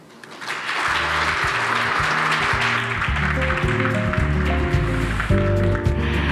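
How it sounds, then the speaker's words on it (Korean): Audience applause closing a presentation at a seminar on building community networks for essential and severe medical care; steady clapping from a crowd throughout, mixed with loud rhythmic music underneath. "다시 한번 큰 박수 부탁드립니다"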